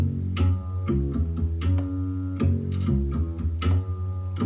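Layered strings with punchy slapped bass in a multitrack mix of a song, giving dense percussive attacks in an uneven rhythm over a thick low end. Loud and continuous, with no voices.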